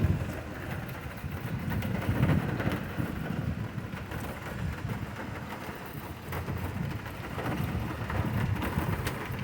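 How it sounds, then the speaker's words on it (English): Thunderstorm with heavy rain and frequent lightning, a steady dense roar of rainfall with low rumbling thunder rising and falling throughout, no talk. "The sheer amount of freaking lightning with this storm is amazing."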